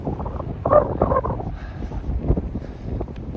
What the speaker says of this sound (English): although it's windy